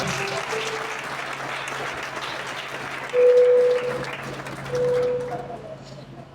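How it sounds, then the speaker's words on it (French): Applause fills a church hall at a Pentecostal church's 26th anniversary celebration, a steady crowd clapping that swells louder near the end, with a faint sustained tone running through it. "On demande d'applaudir s'il vous plaît."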